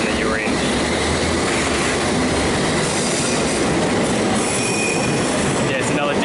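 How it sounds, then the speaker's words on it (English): A London Underground District Line train pulls away from a station, its loud, steady rumble and rail noise filling the platform throughout with faint wheel squeal. "Yeah, it's another District Line train departing."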